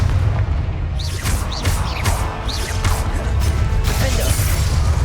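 Fiery Confringo spell blasts in Hogwarts Legacy, a series of booming bursts and crackling impacts over a rumbling game soundtrack, continuous and loud with repeated whooshing hits.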